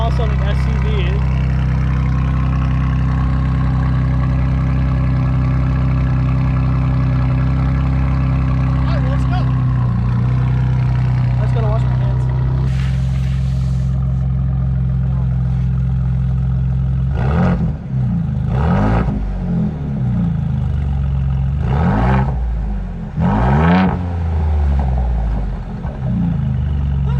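A Ford Bronco SUV with a small exhaust leak idles with a steady low rumble, then several sharp revs swell and fall back, loud and close, with people talking over parts of it.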